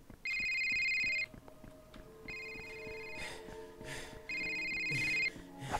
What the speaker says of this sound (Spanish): ¿Dónde es ese teléfono?